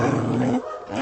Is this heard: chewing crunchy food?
no